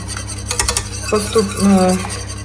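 A spoon stirs and scrapes honey cake batter with baking soda around a metal pot in steady strokes, with soft clinks against the sides, close up.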